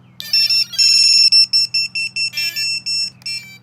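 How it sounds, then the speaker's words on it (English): FPV drone powered on with its S-bus wire removed, giving a series of loud, close electronic beeps: a few long tones followed by rapid short pulses, over a steady low hum and with no talk. "We got beeping"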